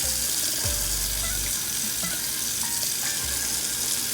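Running water and a soft, steady wet wash as a wig is shampooed under a flowing tap, continuous and fairly close with no voices.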